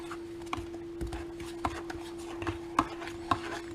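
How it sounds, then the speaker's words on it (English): A spoon stirs a cup of Thai tea with undissolved sugar in it, giving faint gritty scrapes and soft clinks against the cup in an irregular rhythm over a low steady hum. "you hear those sugar noise, then that means not everything is dissolved"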